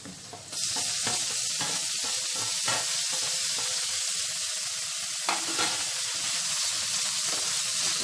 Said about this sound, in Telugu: టమాటో ముక్కలను కూడా లైట్గా ఫ్రై చేసుకోవాలి